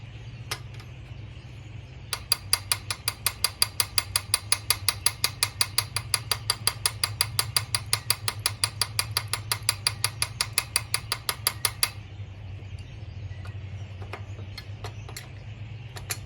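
A ratchet wrench removing the top of a car carburetor, with a rapid run of sharp, close clicks lasting about ten seconds, then a few scattered clicks, over a low background hum.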